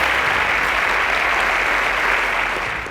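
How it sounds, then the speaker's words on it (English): A burst of clapping from a quiz show audience, bright and dense, holding steady for a few seconds before starting to fade. "A round of applause for Oyelude."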